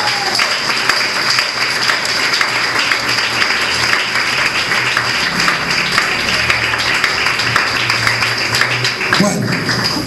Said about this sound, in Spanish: Los que crean, den un aplauso al Señor.